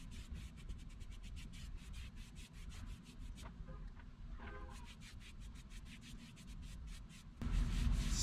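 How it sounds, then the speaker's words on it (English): A brush lays the first coat of varnish onto teak for a sailboat's LED light base, making soft, quiet, rhythmic rubbing strokes, with a brief lull partway and a heavier rumble near the end. "Getting ready to put the first coat of varnish on this one, that one, and that one."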